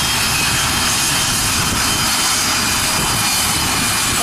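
Small single-engine plane at Aurora Municipal Airport, a steady loud broadband engine roar that stays constant and close throughout, with no talk over it.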